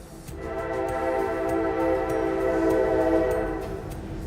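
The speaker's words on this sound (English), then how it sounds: "I hate trains." A passing train sounds a loud, sustained horn that holds for several seconds then eases off, with rumbling rail noise underneath.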